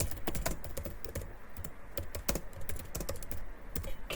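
Rapid, uneven clatter of fingers typing on a computer keyboard, close and steady throughout with no voices.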